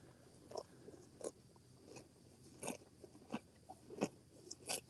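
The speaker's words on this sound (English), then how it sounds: "If you're chewing, you ain't mooing." Cattle on a farm chewing and crunching feed in a close series of irregular, crisp bites and grinding chews, fairly near and quiet, with no talk.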